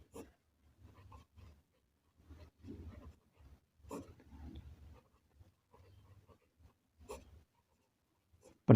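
Pen scratching on paper in short, irregular strokes and taps, moderately close and fairly quiet, with brief pauses between bursts during a maths lesson on triangles.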